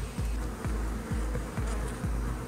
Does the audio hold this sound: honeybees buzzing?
yes